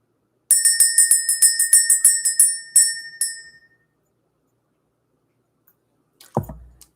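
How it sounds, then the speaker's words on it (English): A bell rung to clear energy, struck rapidly many times in a bright, ringing burst that then fades, followed after a silence by a soft low thump. "We're going to ring this bell."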